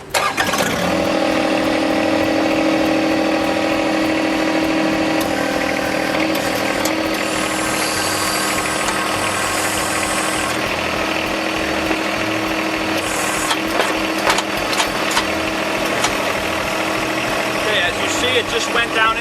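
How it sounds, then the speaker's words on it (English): A John Deere 1025 compact tractor engine cranks, catches and settles into a loud, steady idle close by, with occasional metallic clanks. "now I'm going to start the tractor."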